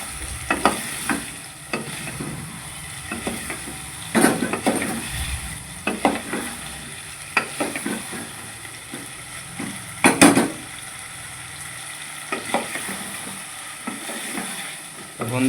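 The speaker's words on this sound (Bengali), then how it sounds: "এরম ধারা তেলে দেওয়ার পরে নাড়তে থাকবে" Eggplant stirred and fried in hot oil in a pan, with a steady low sizzle under repeated scraping and clattering spoon strokes at an uneven rhythm, close up.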